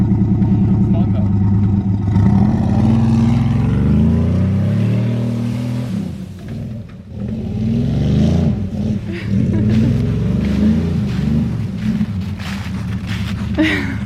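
A misfiring 383 Mopar V8 runs steadily with a rough, uneven low rumble that dips briefly midway, while people talk over it.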